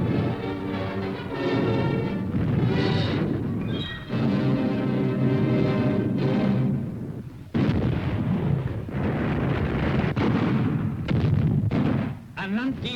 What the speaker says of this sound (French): An Land gehende Truppen und Panzer werden sofort mit Pack, MG und leichten Geschützen bekämpft.